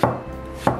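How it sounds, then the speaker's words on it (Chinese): Two sharp, close knife chops through peeled winter melon on a cutting board, spaced just over half a second apart, with no talking. "给冬瓜削皮， 给它切成小块。"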